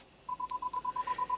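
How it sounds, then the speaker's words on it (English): Rear parking sensor of a 2016 BMW X3 in reverse, a rapid train of evenly spaced short electronic beeps at one steady pitch, clear and close, with no one talking over it. "you also do have rear parking sensors, as you can hear it right now."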